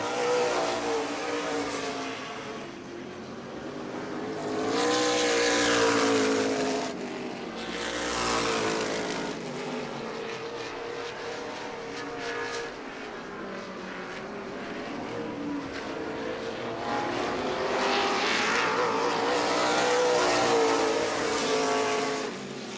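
Race cars lap a short oval at a summer racing event in New Smyrna, engines swelling and fading as cars pass in waves, loud and continuous with repeated approach-and-recede sweeps.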